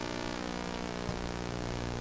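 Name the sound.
wobbler sweep signal heard on old National HRO radio receiver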